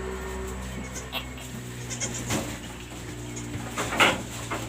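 A five-day-old kid goat bleats several times, short nasal cries at close range over a steady low hum, with some rustling and handling noise in between.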